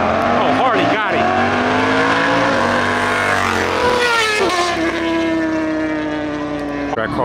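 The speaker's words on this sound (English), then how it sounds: "Track Hawk did a little burnout, I guess." A Track Hawk car doing a burnout at a racers' meet-and-greet BBQ, loud sustained engine roar with rising and falling pitch and squealing tires, close and continuous.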